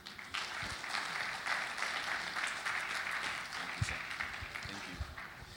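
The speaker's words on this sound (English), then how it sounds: "one more time, a round of applause for the COO Ventures" A conference opening ceremony audience applauds a company's representatives, a sustained even patter of clapping heard from amid the hall, fairly soft and continuous, with no talk over it.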